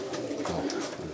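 A black racing pigeon coos softly and close by, a low, throaty rolling call lasting about a second.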